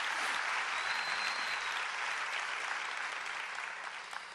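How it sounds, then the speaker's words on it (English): An audience at an awards event gives a round of applause for schools named gold and bronze winners, a sustained even clapping that slowly tapers near the end. "Can you give them a round of applause,"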